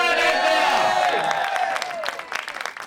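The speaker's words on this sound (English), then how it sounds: "one more round of applause for my co-host, Jace Diehl" A live audience at a Nickelodeon anniversary Q&A with actors on stage bursts into dense applause and cheering, loud and sustained, thinning toward the end into scattered claps.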